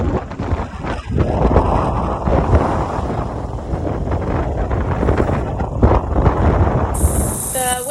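Strong wind buffets the microphone aboard a sailboat heading up New Zealand's west coast at night in winter, with an easterly on the beam. The roar is loud and continuous throughout, and water and hull noise are mixed in.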